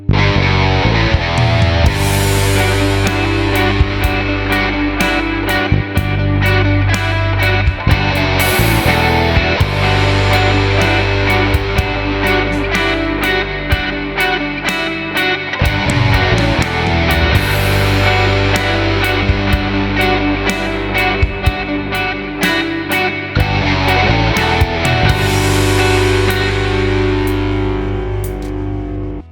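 A loud, continuous electric guitar through a Bondi Sick As overdrive pedal into an HX Stomp plays chords and riffs with a gritty, saturated tone and no talking.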